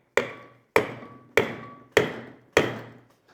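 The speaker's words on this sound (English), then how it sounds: "essentially all we have to do is get this shaft out, which is gonna require a little bit of a hammer." A hammer drives a shaft out of a Toyota 80 Series transfer case during a 3:1 low range gear upgrade: five loud, evenly spaced metallic blows, each ringing briefly before it fades, close up with no talk.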